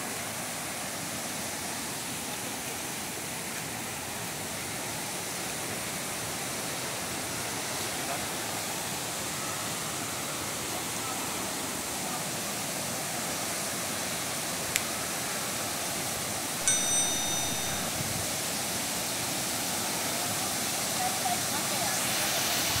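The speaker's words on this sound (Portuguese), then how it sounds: "Essa daqui é a sétima queda da cachoeira." The seventh drop of a cascading waterfall in Bananal, São Paulo, roars as a steady, broad rushing hiss, close and continuous, with a brief click and a faint tone near the end.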